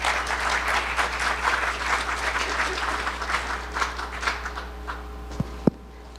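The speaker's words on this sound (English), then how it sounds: "Let's welcome them both with a warm round of applause." An audience at a data science event in Utah gives a warm round of applause, a loud, dense clapping that stays full for several seconds and then thins out to a few scattered claps and knocks at the end.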